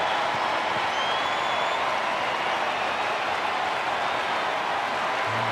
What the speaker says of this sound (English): Cub fans on their feet applauding Nico Hoerner